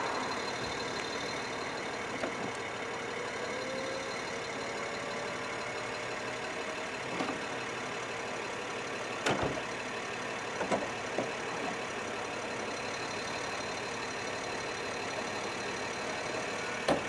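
A steady engine idles throughout, a low continuous rumble with a few brief clicks and knocks, no voices.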